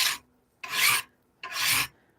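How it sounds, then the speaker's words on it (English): Three slow, rasping strokes of a hand file scraping the metal of a hand-forged Bowie knife blade, each about half a second long, close and clear with short silent gaps between. "How loud is the hand filing?"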